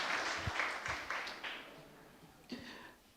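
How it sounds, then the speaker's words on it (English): Audience applause at a university dinner, MUST International Dinner 2023, comes as a soft, scattered patter of clapping that swells briefly and then thins out, faint and diffuse across the room. "Another round of applause, please."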